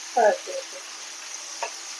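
Mushrooms frying in a pan, a soft, steady sizzle with a couple of faint brief scraping sounds.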